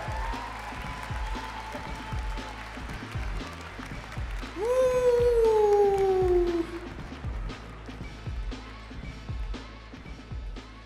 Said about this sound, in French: On les applaudit bien fort, mesdames et messieurs